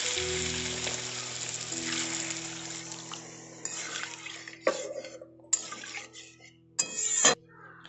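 Water poured over spiced potatoes and cauliflower in a hot pan for an egg curry sets off a loud, broad sizzle that fades, followed by a few sharp clanks of utensils.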